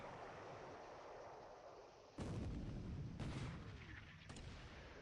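Naval gunfire from light vessels and a motor gunboat in a War in the Pacific strategy game, heard as a few heavy booming blasts over a steady wash of sea-like rumble.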